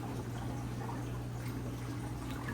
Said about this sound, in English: We're gonna be adding some more water.